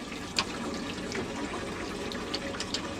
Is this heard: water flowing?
yes